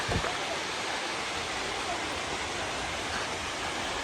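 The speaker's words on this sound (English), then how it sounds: "Some water from the waterfall." A waterfall roars on a mountain hike, a dense, constant rush of falling water filling the whole clip, close and loud with no break.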